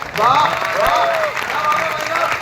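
A crowd applauds at a poetry gathering in Indore; fairly loud clapping fills the moment while a voice rises and falls over it.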